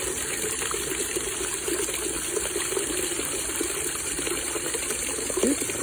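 Water gushes steadily from a tap into a rubber bucket at a poultry yard on a cold morning, a constant near splashing rush with a faint hiss and no voices.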